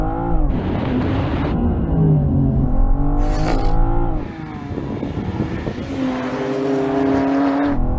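BMW M4 cars accelerate hard in a drag race: loud, close engine notes climb in pitch through the gears, with a brief high whine and a break as the revs drop between shifts.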